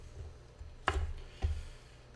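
A knife chops through green beans on a cutting board in two sharp, close thuds about half a second apart, with faint room noise between.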